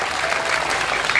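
Audience applause at a Balinese comedy show in Tegalcangkring, Jembrana: a dense, steady wash of many hands clapping at once, close and fairly loud, with no break across the short stretch.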